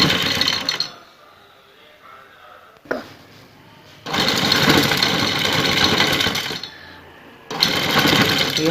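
An electric sewing machine stitches an embroidered neckline in loud close bursts of rapid mechanical whirring, separated by quieter pauses carrying faint low talk.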